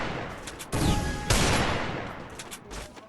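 Gunfire in the CS rank mode of a shooting game: bursts of rapid shots, two loud sustained volleys in the middle, with lighter scattered shots before and after.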